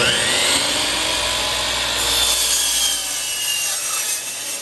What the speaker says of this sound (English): And use a saw.